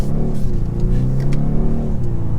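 2024 BMW 430i Coupe M-Sport accelerating up to speed into traffic, staying below 4,000 RPM; a loud, steady engine drone with rising hum and road noise fills the cabin without talk.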